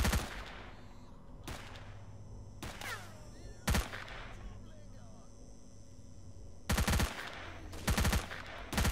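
Gunfire in S.T.A.L.K.E.R. Shadow of Chernobyl: sharp, loud shots and short bursts crack out at irregular intervals, some paired, over a low steady background hum.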